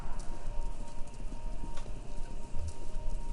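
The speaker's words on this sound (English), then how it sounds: "It sounds like horses? Horses running?" Horses running, heard over a radio station in the Kentucky Route Zero game, a muffled clip-clop of hooves in an uneven rolling rhythm at moderate distance over a steady hum, no talk.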